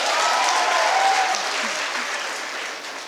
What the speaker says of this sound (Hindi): कमानी और उनके पिता के लिए वंस अगेन जोरदार तालियां